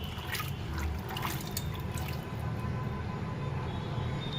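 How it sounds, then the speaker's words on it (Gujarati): Water streams over chickpeas in a bowl as they are washed, a continuous close splashing and trickling with small drip accents, steady in level from start to finish. "તો પાણી નાખી દઈએ છીએ એકદમ ક્લીન કરી નાખવાના"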